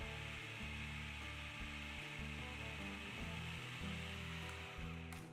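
A tiny food processor whirs steadily while blending a large batch of cooked chickpeas into hummus paste, its motor drone loud and continuous with rhythmic chopping pulses throughout.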